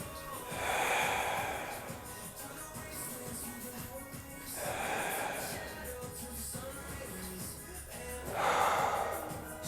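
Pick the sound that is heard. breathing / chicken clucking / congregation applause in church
breathing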